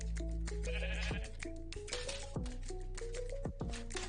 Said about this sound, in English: let me spawn a new sheep